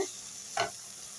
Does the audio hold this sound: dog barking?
no